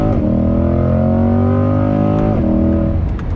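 Corvette C8 held in second gear accelerating hard from 40 mph at about 4,500 rpm, a loud, close engine roar rising steadily in pitch with a brief shift-like dip before climbing again.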